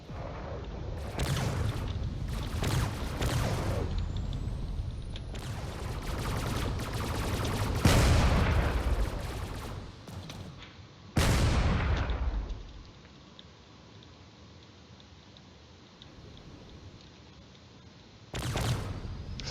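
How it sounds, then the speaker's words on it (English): Cannon fire in a space battle video game: a series of heavy booming blasts and rumbling bursts, some close and loud, others fading out, with quieter gaps between volleys. "Still some cannon fire going around"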